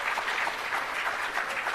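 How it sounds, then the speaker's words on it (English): Audience applause at a formal launch event for technology centres, a short burst of dense, steady clapping from a sizeable crowd. "Let's give him another round of applause for him."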